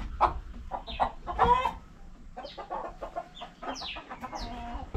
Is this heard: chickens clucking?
yes